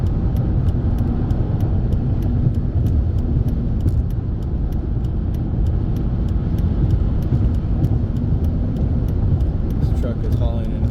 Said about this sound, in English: This truck is hauling an oversized load.